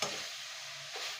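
Coconut filling for sweet parotas being stirred in a hot pan, a steady close-up scraping with a faint sizzle beneath, continuous and even throughout.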